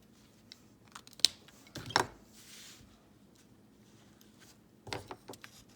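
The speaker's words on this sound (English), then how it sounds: "It's a very slight curve, but you still want to snip it." Scissors make a few quick, crisp snips into fabric for a freezer-paper appliqué along a slight curve, close and sparse, with soft rustling of material between cuts.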